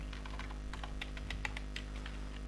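Fingers tap out an entry on a computer keyboard while filling a bill in an Excel spreadsheet, a quick irregular run of close, crisp key clicks with no talking.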